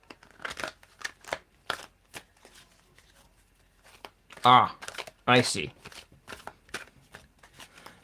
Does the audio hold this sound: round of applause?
no